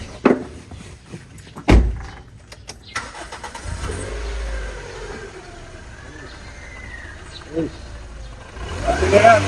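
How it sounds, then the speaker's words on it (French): A car door thumps shut, then the engine cranks and catches, settling into a low idle under talk, with a few more knocks and a rise in revs near the end. "Entrez, démarrer la voiture."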